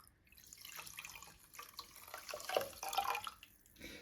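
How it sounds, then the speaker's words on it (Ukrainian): A quiet trickle of milk pours into a pot, splashing softly and unevenly for a few seconds, close and faint. "Потім доливаємо молоко."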